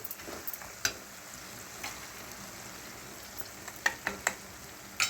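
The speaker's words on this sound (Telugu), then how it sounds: "ఇంగు వేసేసుకుని ఇలా కలిపేసుకోవాలి" Asafoetida is stirred into hot tempering oil for raw mango pulihora, giving a soft, continuous sizzle. Scattered light clicks and taps from the spoon against the pan come and go, close by and fairly quiet, with no voices.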